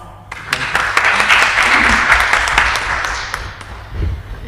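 An audience applauds warmly to welcome a speaker at a formal reception for Bristol's High Sheriff, a dense burst of clapping that swells and stays steady for several seconds before easing off.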